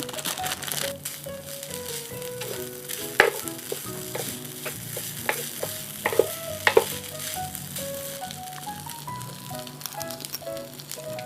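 Food with sliced ginger sizzles and crackles steadily in a hot non-stick electric pan while being stirred, with scraping clicks of a utensil and no talking.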